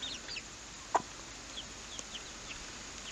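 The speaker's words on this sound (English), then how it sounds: "We got a man-hating rooster." A rooster among a backyard flock gives a short, faint cluck, with soft scattered chirps from young chicks in the background over a quiet outdoor hiss.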